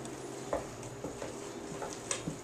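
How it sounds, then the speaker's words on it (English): A spoon stirs potato pancake batter with onions in a bowl, giving soft, quiet scraping and wet sloshing with a few light clinks against the bowl's side, spaced irregularly over a faint background hum. "And you're just going to mix it well with your spoon."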